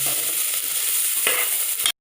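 Chopped shallots sizzle steadily in hot oil in a pan, a continuous crackling hiss with a couple of soft stirring scrapes, close up, before cutting off abruptly.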